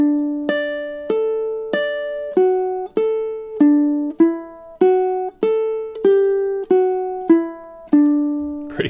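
Low G ukulele playing a measure of Bach's Cello Prelude, a steady run of about fifteen single plucked notes in an even rhythm, each ringing briefly, close and alone.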